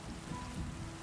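Light night drizzle falls steadily, a soft, even patter of raindrops heard quietly and alone without any voices.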